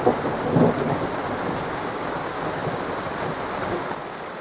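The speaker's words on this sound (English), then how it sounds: "now it's beginning to rain" Steady rain hisses across the whole stretch, with a brief low rumble near the start, no voices present.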